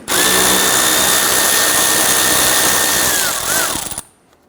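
A power tool, likely an electric drill or impact driver, spins out a 10mm headlight bolt on a 1992–1996 Toyota Camry, running loud and steady for about four seconds with a brief pitch dip before stopping.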